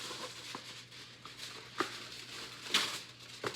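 Soft crinkling and a few sharp crackles of aluminum foil being torn and handled, quiet and close, with brief rustling bursts.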